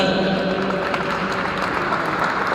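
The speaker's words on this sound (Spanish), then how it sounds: "un aplauso fuerte" An audience at a Catholic religious talk breaks into loud, sustained applause, a dense, even wash of many hands clapping together that fills the whole moment.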